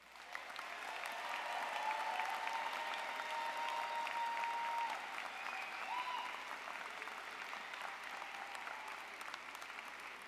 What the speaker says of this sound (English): So let's applaud our graduates.